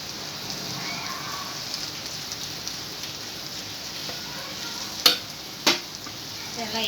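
Potato bhaji being stirred in a pan after coriander is added, a steady soft sizzle and scraping throughout with two sharp clinks of the spoon against the pan near the end.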